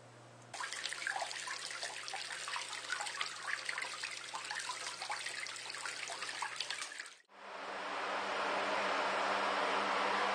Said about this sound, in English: You can see the nice even water flow,